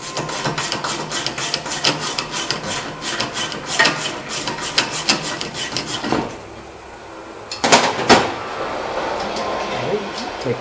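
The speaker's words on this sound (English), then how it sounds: "so we are going to use the ratchet on this one." A ratchet loosens a tight brake caliper bolt on the rear brakes of a 2008 Nissan Altima, giving rapid metallic clicking bursts with scraping and clanks between them, close up, with a pause partway through.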